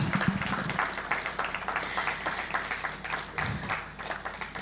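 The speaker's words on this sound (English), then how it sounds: "Please, a round of applause for him once again." A conference audience applauds a speaker at an influencers event, a moderately loud spread of many hands clapping in uneven bursts that swell and dip for several seconds.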